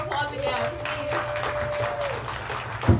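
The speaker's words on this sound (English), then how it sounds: "Give yourselves a round of applause again, please." A crowd at TrotCon 2021 claps steadily throughout, dense applause filling the space while a voice talks over it.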